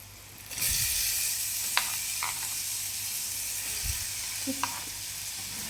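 Tomatoes dropped into a hot pan of spiced oil with chilli, turmeric, salt and sugar, a sudden loud burst of sizzling that settles into a steady hiss with occasional light spatula taps.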